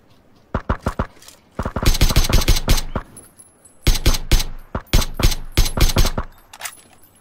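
A player's gunshots in a video game ring out in sharp, loud volleys: a short quick burst, then longer rapid strings of shots separated by brief pauses.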